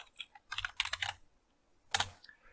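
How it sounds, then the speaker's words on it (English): Keystrokes on a computer keyboard in short bursts, a quick flurry of clicks, a pause, then a second cluster of taps, close and fairly quiet. "Let's go ahead and type that out."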